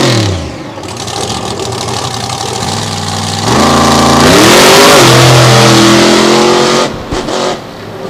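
A monster truck at Lake Erie Speedway revs hard as it takes off, its loud engine climbing in pitch through several rising gear sweeps before cutting back near the end.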